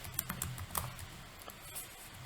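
Quiet keystrokes on a computer keyboard, a short run of soft clicks in irregular bursts while a name is typed into a spreadsheet button label, close and faint.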